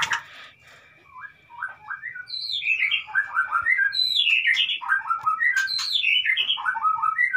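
Small white-rumped shama birds in a cage chirp and twitter in quick, overlapping bursts, close and fairly loud, with a thin steady whistle tone underneath.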